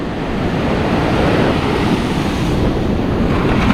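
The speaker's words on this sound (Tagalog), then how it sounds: "may malakas din palang alon" Strong ocean surf rolls steadily onto a beach on Siargao, a continuous loud wash of breaking waves mixed with gusty wind buffeting the microphone, with no voices.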